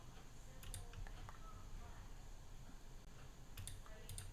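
Mouse clicks during setup of a Hyper-V virtual machine: scattered sharp clicks, a pair early and a few more near the end, over a steady low hum of room noise.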